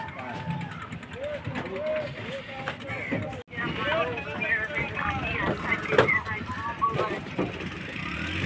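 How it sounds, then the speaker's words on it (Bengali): A wooden river boat pulls away from Kalitala ghat on the Jamuna river, a low, steady rumble of water and motion under someone talking close by, with other passengers' voices faintly in the background. "তো আপনারা দেখতে পাচ্ছেন যে আমাদের নৌকা এইমাত্র ছেড়ে দিল"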